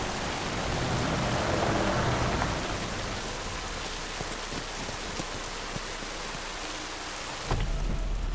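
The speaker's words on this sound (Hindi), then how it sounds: "अब तो बारिश भी शुरू हो गई।" Rain sets in with a steady broad hiss while a deep thunder rumble rolls underneath, and a heavier low thump of thunder arrives near the end; no voices are heard.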